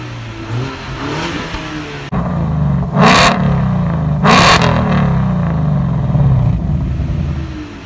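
A 2018–2019 Ford Mustang EcoBoost engine idles with a low rumble and then revs sharply twice, each rev a loud, brief rise and fall before it settles back to a steady hum.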